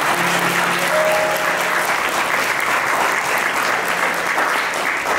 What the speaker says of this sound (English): let's give a round of applause for this celebration.